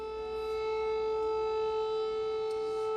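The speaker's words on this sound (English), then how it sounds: "the air raid sirens are going off once again" Air raid sirens wail over Kyiv, a sustained, steady tone holding without a break and filling the whole moment.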